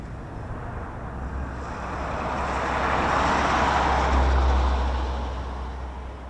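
KC-135 tanker of the US Air Force 100th Air Refueling Wing taking off from runway 28, a distant broad jet roar that swells steadily to a peak and begins to fade, with a low rumble underneath and no talk.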